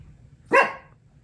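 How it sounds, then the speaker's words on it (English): A single dog bark rings out once, short and sharp at moderate distance, over a quiet low hum indoors. "Barking dogs."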